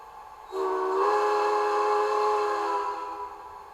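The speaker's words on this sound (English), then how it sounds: "Have to experiment with which whistle I like." Steam whistle from a sound decoder in a Bachmann 2-4-2T model locomotive, one sustained whistle blast lasting about two and a half seconds, clear and fairly loud with nothing else over it.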